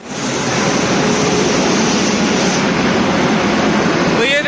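A WAP7 electric locomotive from the Vadodara shed stands at railway platform 4, giving off a loud, steady, unbroken roar like blowers and machinery running close by, with no pauses.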